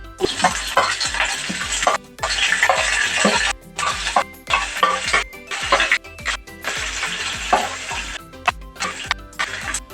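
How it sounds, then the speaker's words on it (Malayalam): Curry leaves fried in a pan until they turn red, a dense crackling sizzle with stirring scrapes and small clinks, broken by brief pauses, close and loud with no talk. "കറിവേപ്പില ഇരിച്ച് കൂടി ഒന്ന് ഇതിൽ മൂപ്പിക്കണം നല്ല ചുവപ്പ് വരെ മൂപ്പിക്കണം"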